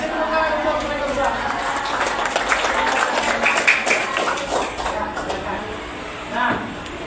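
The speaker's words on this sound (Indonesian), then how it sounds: "Kasih tepuk tangan untuk mereka berdua" Students in a classroom clap for two classmates, a sustained patter of hands that swells in the middle and fades, with some voices and chatter mixed in.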